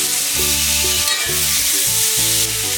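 Chicken searing in a hot pan gives a loud, continuous close sizzle as browned bits are scraped up, with a pitched tonal pattern running underneath.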